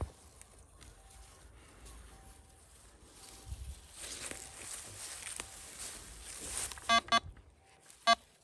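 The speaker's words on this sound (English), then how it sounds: "Another beep in here." A metal detector sweeping over ground at chateau grounds near fence posts gives a few short electronic beeps toward the end, rising clearly above faint rustling and outdoor background.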